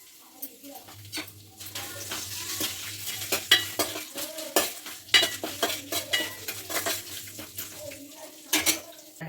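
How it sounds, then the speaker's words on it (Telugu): Hot tempering hisses as it's poured into rice, followed by repeated scraping and clinking of a spoon stirring, with bursts of sizzle between. "పోపు అయితే మంచిగా వేలిందండి ఇప్పుడైతే బియ్యంలో వేసేస్తున్నా"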